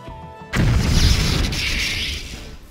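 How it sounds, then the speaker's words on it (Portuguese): A loud explosion in Minecraft Sky Factory 3 bursts out after a half-second of quiet, a heavy boom that rumbles and slowly fades over the next two seconds. "Fez uma explosão maluca."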